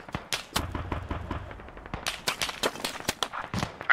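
Mortar fire in the military shooter Squad, on Lashkar Valley in a large 40-versus-40 match: a dense run of sharp booming blasts and distant thuds, fairly loud and unevenly spaced.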